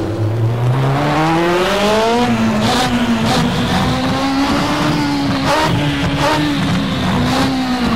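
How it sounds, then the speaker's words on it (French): Benetton Ford F1 car with a Ford V8, driven in the racing game Stock Car Extreme, revs up through gears with rising pitch, then holds a loud, high, buzzing wail up close, with brief gear shifts and tire noise. "cette fois j'ai pris la Benetton Ford, celle de Schumacher, propulsée donc par le V8 Ford"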